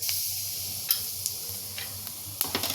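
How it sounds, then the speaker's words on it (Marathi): Cumin seeds and turmeric sizzling in hot oil in a pan, a soft continuous hiss with a few sharp crackles and ticks scattered through, close and quiet. "त्यात थोडं जिरं घालते तेल गरम झाल्यावर हळद"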